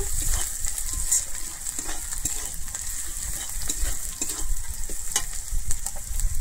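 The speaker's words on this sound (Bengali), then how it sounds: "আমি এরপরে দিচ্ছি কাশ্মীরি লঙ্কার গুঁড়ো কালারের জন্য, আর দিচ্ছি আমি অল্প পরিমাণে জিরের গুঁড়ো দিয়ে আমি আবারও খুব ভালোভাবে একটু কষিয়ে নেব।" Spices sauté in hot oil with Kashmiri chili powder and cumin powder, a dense, loud, continuous sizzle with scattered stirring scrapes and clicks close by, no voices.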